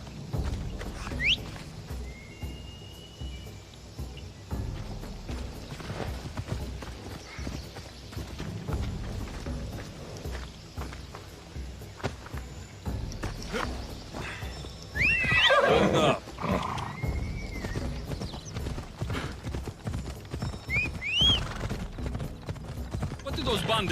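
Horse in Assassin's Creed Odyssey galloping with steady clip-clop hoofbeats throughout, breaking into a loud whinny midway and snorting again later, with voices talking over parts of the ride.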